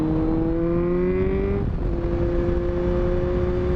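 A motorcycle engine with strong low-end torque pulls hard, its rising harmonic tone climbing steadily before easing into a steady drone, loud and close amid wind rush, with no talking.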